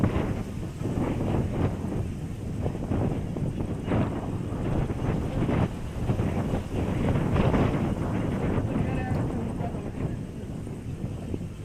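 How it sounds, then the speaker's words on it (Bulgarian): Strong wind buffets the microphone in heavy, uneven gusts, a continuous low roar and rumble close up with no clear voices over it. "Има много вятър."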